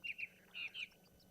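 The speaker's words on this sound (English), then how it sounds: "listen to the birds." Birds sing in the morning at the Ngala Private Game Reserve, a few bright chirps and short tweeting phrases in quick succession, fairly faint against a quiet background.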